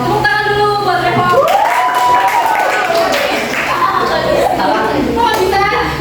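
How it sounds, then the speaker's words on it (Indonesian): An indoor group, children among them, claps for Revo in a burst of applause, with voices and singing over and around the clapping. "tepuk tangan dulu buat Revo"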